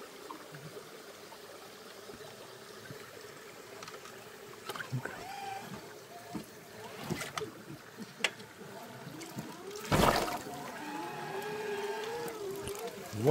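An electric wheelchair drives through a shallow river on an Altai trip, with steady splashing and churning water running throughout and a louder burst of splashing near the end, while people talk and laugh nearby.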